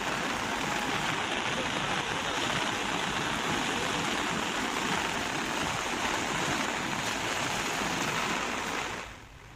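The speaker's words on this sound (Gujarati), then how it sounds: "વીરા નદીનું રૌદ્ર સ્વરૂપ જોવા મળ્યું છે।" The flooded Veera river rushes with a loud, dense, unbroken roar of turbulent water after heavy monsoon rain, steady throughout and dropping off abruptly at the very end.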